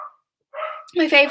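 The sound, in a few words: dog barking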